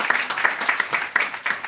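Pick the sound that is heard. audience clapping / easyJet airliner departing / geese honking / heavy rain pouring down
audience clapping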